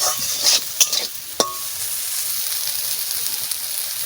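Dhenki shak greens fry in a pan with a steady, close hiss, broken early by a few quick stirring scrapes and clinks against the metal.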